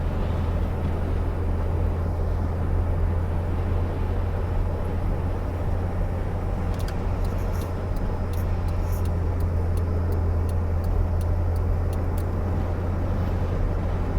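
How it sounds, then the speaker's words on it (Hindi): Heavy road traffic in Dubai on a hot July day: a constant, dense low roar of passing vehicles that never lets up, with a brief run of faint rhythmic ticking partway through. "ट्रैफिक है काफ़ी ज़्यादा।"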